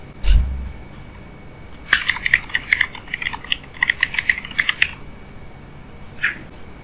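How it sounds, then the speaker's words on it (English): A run of quick keystrokes on a computer keyboard as a git commit message is typed, a close, crisp burst of clicks lasting a few seconds after a single louder knock, then one last tap. "here you can type the message"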